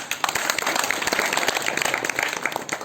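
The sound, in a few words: audience clapping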